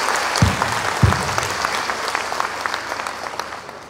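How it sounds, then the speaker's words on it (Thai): A large crowd claps loudly at a company's second anniversary celebration, dense sustained applause filling the hall with a couple of low thumps near the start. "ปรบมือดังๆให้กับ"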